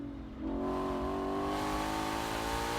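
A Ford Mustang GTD with 815 horsepower accelerates hard out of a high-speed left on a Nurburgring lap. A loud, close engine note climbs steadily in pitch without a break.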